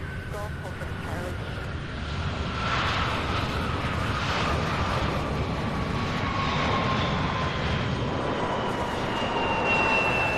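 An airplane takes off at Louisville International Airport, giving a sustained loud engine roar with a rising whine that spreads across the whole stretch, while a voice talks over it.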